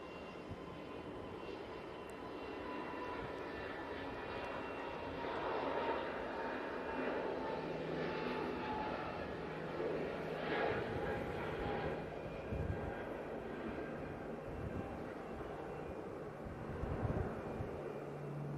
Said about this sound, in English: EasyJet A320neo off to Alicante.